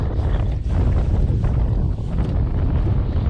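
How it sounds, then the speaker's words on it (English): Strong wind of about 10 to 15 mph roars and buffets the microphone continuously while fishing at Naval Air Station Pensacola, Florida, a loud, steady rushing with low rumbling gusts and no voices. "that wind is whipping"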